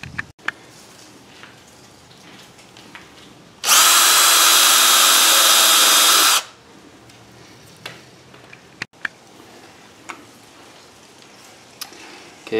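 A power drill drives a 2.5-inch screw into wood in one loud, steady whir lasting about three seconds, surrounded by quiet room tone and a few faint clicks and knocks.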